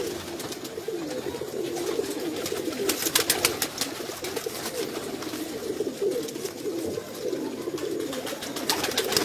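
Pigeons cooing steadily in a loft, a soft continuous murmur of low coos with faint rustling and clicks, no talk over it.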